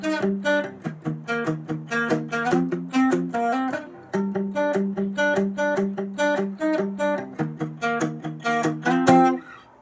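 A guitarist plays the intro riff at full speed: a steady run of picked, ringing notes with a clear rhythmic pulse. It is close and moderately loud, with no talking.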